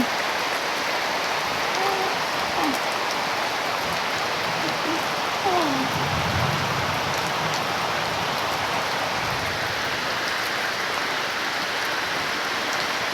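Heavy rain pours down steadily in a village in a dense, continuous hiss, with a few faint tonal chirps and low rumbles briefly showing through around the middle.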